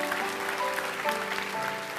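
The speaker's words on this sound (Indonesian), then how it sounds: "Beri tepuk tangan untuk Tuhan." A congregation claps during a church sermon, a continuous even patter of applause with an organ or keyboard chord held faintly underneath.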